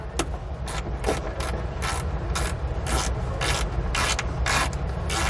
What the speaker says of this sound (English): We can now go ahead and remove the nut down here. We're using an 11mm socket to do so.